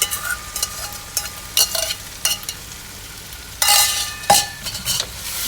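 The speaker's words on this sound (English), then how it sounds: "Fry it along with the masala." Marinated chicken fries with masala in a pot under a soft sizzle, broken by scraping stirs and metal clinks of a utensil against the pot.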